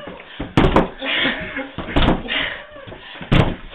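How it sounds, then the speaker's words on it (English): A door takes three heavy kicks spaced about a second and a half apart, each a hard, booming thud, over a steady background hiss and faint voices. "I'm breaking the fucking door."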